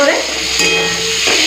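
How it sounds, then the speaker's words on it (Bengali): Prawns fry in hot oil with a steady, dense sizzle and crackle, close and loud, with a brief stir partway through. "এই যে চিংড়ি মাছটা ভেজে নিয়েছি ভালো করে"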